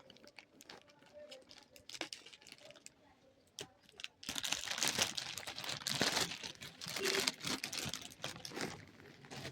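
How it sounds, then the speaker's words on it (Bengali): Plastic packaging from a Flipkart parcel crinkles and rustles as it is unpacked, quiet handling at first, then louder, busier crackling and tearing close by. "তা দেখো এবার আনপ্যাক করি তোমাদের সামনেই।"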